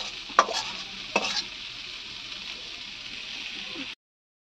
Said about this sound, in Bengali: আর ওদিকে হচ্ছে আমাদের কলমি শাক ভাজা